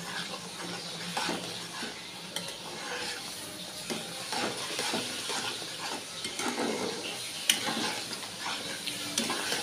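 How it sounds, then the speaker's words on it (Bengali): Oats bubble and simmer in a pot on the stove, a steady hissing, sizzling boil with small pops and occasional stirring clinks, close and moderately loud, with no talk over it. "ফুটছে ওটস"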